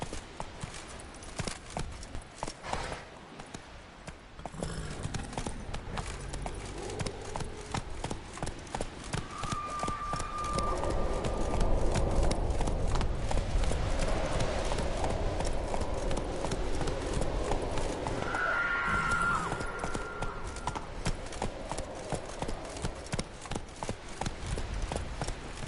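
Roach the horse galloping in a video game, a continuous rapid rhythmic hoofbeat that grows louder midway, with faint voice and game sounds underneath.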